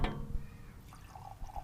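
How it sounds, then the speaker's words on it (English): Glen Moray 12-year single malt Scotch whisky being poured into a glass, a brief faint liquid trickle and a few soft drips outdoors, with no talk. "Let me pour some."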